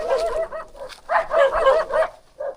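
Dogs on a rural farm lot bark and yip in several close, loud bursts, with whiny, excited tones in an uneven rhythm and no clear talk.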